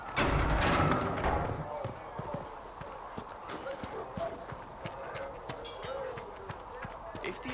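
Horse hooves clop steadily at a walking pace beneath a busy video game soundscape, with a loud thud at the start and voices nearby.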